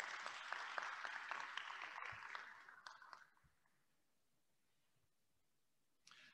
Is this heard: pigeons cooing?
no